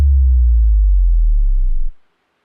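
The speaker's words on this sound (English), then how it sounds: "Nice little bass drop there." A deep booming bass drop played loud during a live prize draw, a low sine-like rumble sustained for about two seconds before cutting off abruptly, with no talking over it.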